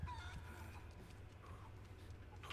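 A chicken clucks softly a few times in a Resident Evil 4 game scene, faint against a low ambient hum.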